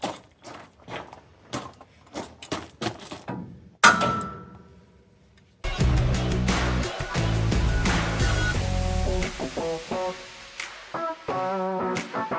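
A series of sharp, loud hammer strikes while fitting sway bars to a monster truck, some quick and clustered, followed by heavier thuds and clattering knocks.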